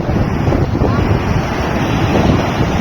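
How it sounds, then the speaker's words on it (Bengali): Heavy surf at Puri roars continuously, with big waves crashing and washing in a broad rushing noise, mixed with gusty wind buffeting close by. "ওরে বাবা কত বড় ঢেউ এসছে দেখ"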